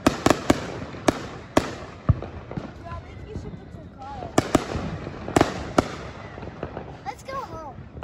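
Fourth of July fireworks and firecrackers go off at close to middle distance in a string of sharp bangs, some quickly repeated, with whistling trails between them and people talking in the background.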